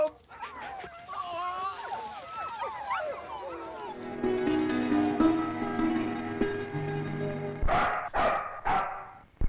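Several dogs barking and yelping, a clamour of overlapping barks and whimpers up front, then sharp loud barks near the end, with a voice shouting among them.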